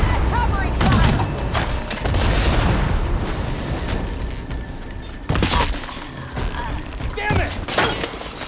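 Gunfire in the Horizon Forbidden West video game: repeated loud booming shots and bursts through a dense, chaotic battle mix, with voices shouting over the fighting.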